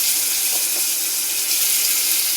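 Chopped tomatoes fry in hot oil in a pan while making chana dal curry, a loud, steady, close-up hiss that stays even and continuous throughout.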